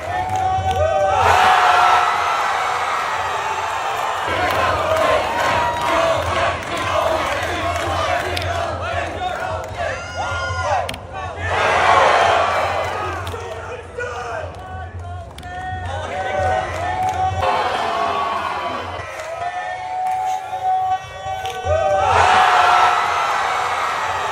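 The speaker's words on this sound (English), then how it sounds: "As you can see and hear from the crowd, absolute madness" A loud crowd at a Popdarts national tournament roars and cheers in waves, with shouts and whoops rising and falling over several surges, voices mixed throughout.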